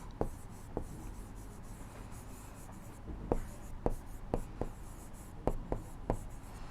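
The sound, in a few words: drawing a rough sketch of a quadrilateral on paper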